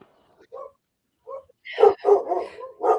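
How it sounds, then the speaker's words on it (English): Several dogs bark and yip indoors, a couple of soft early yaps followed by a loud burst of close, overlapping barks toward the end. "the dogs have opinions"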